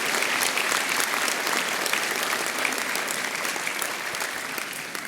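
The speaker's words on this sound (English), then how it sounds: "I think you all deserve a round of applause" Sustained audience applause fills a university graduation ceremony hall, a steady dense wash of many hands clapping at once that fades slightly toward the end, with no voices over it.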